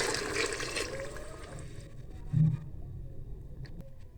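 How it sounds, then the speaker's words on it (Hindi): About a glass of water poured into a cooking pot of beef aloo gobhi, a brief splashing pour in a home kitchen followed by quieter trickling. "साथ हम इसमें पानी शामिल करेंगे, तकरीबन 1 गिलास।"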